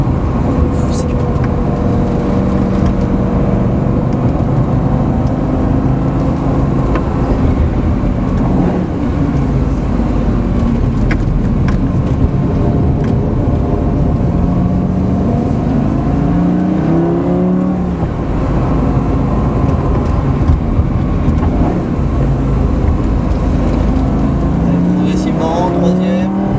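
A loud Lamborghini Gallardo engine revs and shifts continuously on the Folembray racing circuit, rising and falling in pitch as the car accelerates and brakes, heard from close up inside the car.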